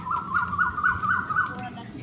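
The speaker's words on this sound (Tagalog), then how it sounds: "May huni pa ng ibon dito." A repeated warbling bird call sounds steadily at a moderate distance over a faint background hum, at a wet market.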